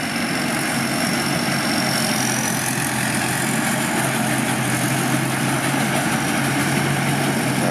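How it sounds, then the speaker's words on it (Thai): A truck engine idles steadily and evenly close by, a continuous low rumble with a stainless steel tank fitted to the truck, and no voices over it. "ให้ดูการทำงานนะครับแล้วก็ฟังเสียงเครื่องยนต์นี่ครับ"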